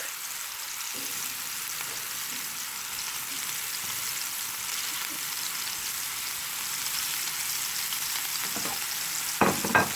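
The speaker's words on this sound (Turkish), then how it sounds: "Köftelerimizin rengi değişene kadar e, kızartsak yeterli olacak" Steady crackling sizzle of meatballs frying in hot oil, continuous and close, with a couple of soft clinks near the end.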